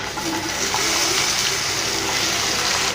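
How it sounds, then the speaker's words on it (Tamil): Raw plantain pieces frying in hot oil give a steady, dense hissing rush without breaks, fairly loud and close, with no voices. "இப்போது இந்த எண்ணெய் நல்லா காஞ்சிருச்சு. இப்போ இந்த வாழைக்காவை ஆட் பண்ணிக்கலாம்."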